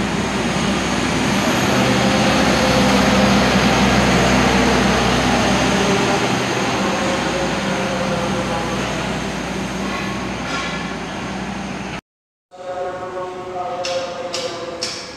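An Argo Cirebon train passes straight through a busy station without stopping, producing a loud, sustained roar of wheels and carriages for about twelve seconds before it cuts off abruptly, followed by quieter station ambience.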